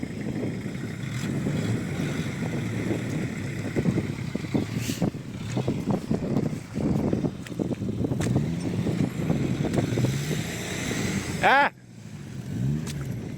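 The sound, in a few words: car engine revving, reversing out of a field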